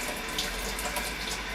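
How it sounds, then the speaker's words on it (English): Water runs steadily from a tap, rinsing a JOBO film developing drum after fixer, a continuous close splashing gush with no break. "Water's coming out clear after the second fixer rinse"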